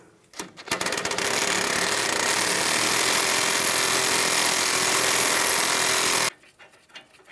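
A Ford Explorer front sway bar link nut comes off a stud with a 10mm socket and a 21mm wrench, a loud continuous power-tool rattle lasting several seconds and then stopping, with a few clicks before and after.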